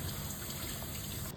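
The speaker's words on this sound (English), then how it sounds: "now we're going to take 90 milliliters of white rice and put it into our boiling water" White rice poured into a pot of boiling water, a short steady rushing, bubbling wash of liquid, fairly quiet, ending abruptly.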